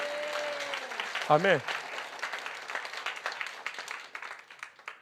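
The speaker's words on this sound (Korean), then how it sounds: "박수 한번 합시다, 주님께." Congregation applauding in a Korean church during a Sunday morning worship sermon, steady mid-level clapping from many hands across the room after a spoken word at the start.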